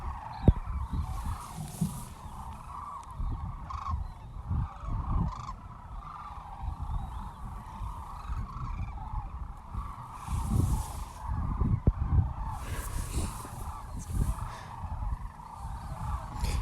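Sandhill cranes and geese call at a winter roost in southeast Arizona, a distant, continuous chorus of overlapping rattling calls over a low rumble of wind.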